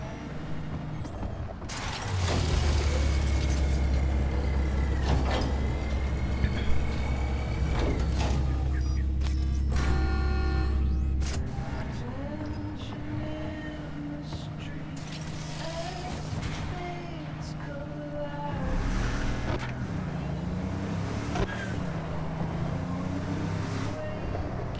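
A car drives in the video game Cyberpunk 2077, with a loud low engine drone, mechanical whirs, creaks and clunks, and shifting tones as it turns, heard alone without speech.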